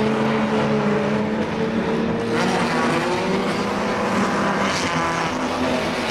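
Unlimited banger racing cars at King's Lynn, one sounding sick and running rough, roar steadily and loudly throughout with a harsh engine drone, with no talk heard.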